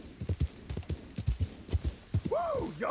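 Horse hooves in the video game Red Dead Redemption 2 clop in a steady, evenly spaced rhythm, close and clear, before a rising, wavering tone enters near the end.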